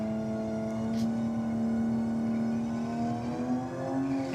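A Ford Barra engine in a race ute holds a sustained, tonal drone with strong harmonics that climbs slightly in pitch near the end, loud and close with no talking.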